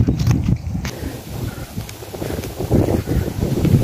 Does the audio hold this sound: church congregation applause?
no